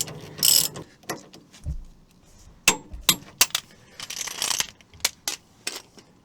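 A wrench tightens the anti-roll bar link nut on a 2011 Citroen Relay / Fiat Ducato / Peugeot Boxer campervan, giving scattered metallic ratchet clicks and clanks with short pauses and some tool handling.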